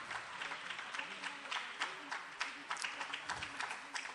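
Audience applause welcoming students at an elocution competition award ceremony in Ichalkaranji, a steady patter of many hands clapping at moderate level that continues throughout.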